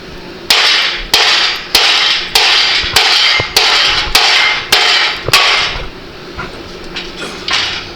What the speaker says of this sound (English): Are we gonna sledgehammer it now? Yeah, hit it with a hammer.